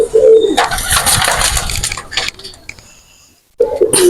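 Pigeons are let go by hand, a loud flutter and burst of wingbeats close by followed by fading flapping and a short quiet, then another rush of wings at the end.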